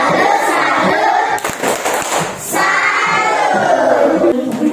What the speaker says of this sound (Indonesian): Kita berikan tepuk salut ya